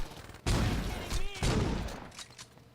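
A shotgun fires in the video game Saints Row 2, with sharp blasts at about half a second and again near one and a half seconds, each trailing off in a rumbling decay at moderate volume.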